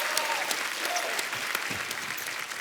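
Audience applause on an Indian comedy show, a steady crowd clapping that fills the room evenly, with a few faint voices and cheers under it.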